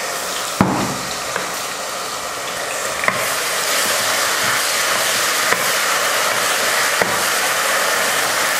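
Onion paste sautéing in a pan before chicken is added, a loud, dense, continuous sizzle heard up close, with a few sharp clicks of a spoon against the pan.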